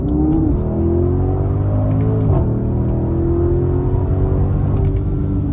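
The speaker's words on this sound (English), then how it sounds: "we can try a little second to third gear pull entering this highway on the gas" An Audi SQ8 pulls hard from second into third gear while merging onto a highway, heard from inside as a loud, steady engine drone with a brief dip at the shift, no talk.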